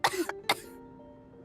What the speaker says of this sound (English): How long have you had that cough, Tonia?